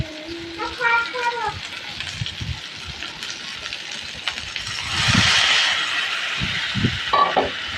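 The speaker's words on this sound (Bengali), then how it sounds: "পানি দিয়ে দিব।" Water poured into a pan of spiced masala with cumin and ginger for frying singi fish, a brief broadband sizzling hiss midway, with scattered kitchen clatter and a voice speaking around it.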